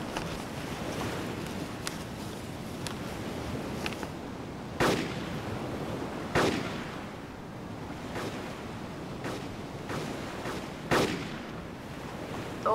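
Several sharp gunshots crack at irregular intervals in the video game DayZ, over a steady washing background of surf-like noise near an island, some louder and nearer than others.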